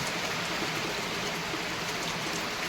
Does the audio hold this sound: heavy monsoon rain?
yes